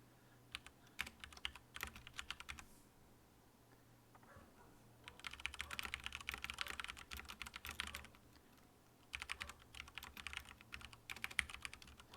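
Computer keyboard typing in three bursts of rapid, fairly close key clicks, separated by short quiet pauses and carried over a steady low hum.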